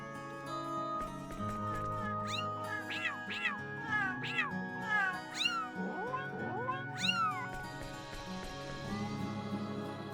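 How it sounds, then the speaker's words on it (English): Cat meows from a PS4 game, Star Ocean 3, come in a quick run of short rising-falling calls over steady in-game music, moderately loud and clear with no talk. "No, Fate was just patting the cat."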